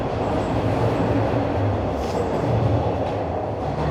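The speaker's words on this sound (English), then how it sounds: "that was my train I missed" A subway train rumbles steadily as it pulls away from Eglinton West Station in Toronto, loud and continuous low-frequency roar with faint metallic squeals, no voices.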